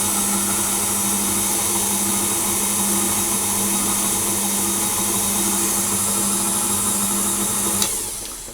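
An electric mixer beats coconut pound cake batter with coconut milk on slow speed, a steady, loud motor whir holding evenly before a brief clunk near the end as it winds down.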